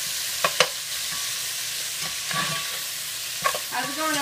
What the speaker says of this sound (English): It's just sizzling away.